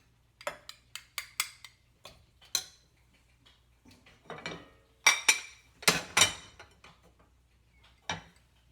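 Rice is pressed gently into a small ceramic or glass container, giving a series of sharp clinks and taps, some rapid and some in short clusters, close and clear in a quiet room.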